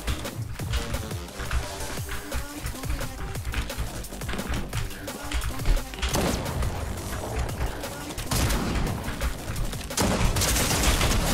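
Desert Eagle pistol shots in the video game Fortnite, loud and dense within a busy, constant mix of game effects and music, with sharp impacts scattered throughout.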